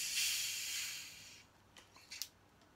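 Diet Coke Exotic Mango fizzes into a cup with a bright, steady hiss for over a second. A few faint pops and crackles of bursting bubbles follow.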